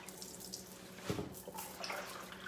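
Harvested garden vegetables lowered into an ice water bath, with running and splashing water close by, a sudden slosh in the middle, then gentler trickling.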